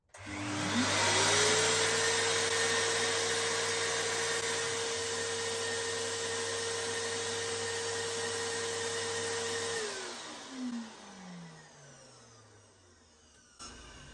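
An Evolution R15 workshop vacuum switches on, rises to a loud steady drone and runs alone for several seconds, then powers down with a falling whine.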